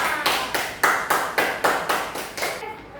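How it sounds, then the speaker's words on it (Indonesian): A primary school class claps together in a steady rhythm, about nine sharp claps in unison, tapering off at the end. "tepuk tangan dulu untuk teman kita Rizka."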